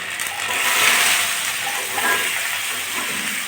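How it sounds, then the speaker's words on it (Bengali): Pumpkin and potato pieces hitting hot oil in a pan, giving a loud, steady, broad hiss of sizzling that swells slightly and then holds even throughout. "এবার আমি উঠতে মিষ্টি কুমড়ো আর আলুগুলো দিয়ে দিচ্ছি"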